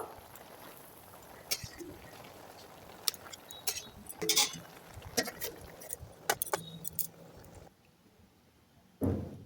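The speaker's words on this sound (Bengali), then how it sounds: "সব সবজি দিয়ে আমি নাড়িয়ে আবার ঢাকা দিয়ে দেবো।" Spoon stirring tomato, eggplant, coriander stems and spinach in a cooking pot, scattered metallic clinks and scrapes in irregular bursts, then a quieter pause before a final louder clatter as the lid goes back on.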